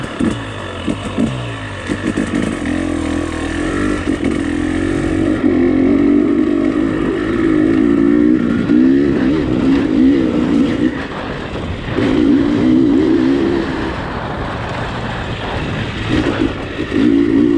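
A dirt bike engine runs loud and close throughout a ride with turns, droning steadily and rising and falling in pitch as the throttle changes.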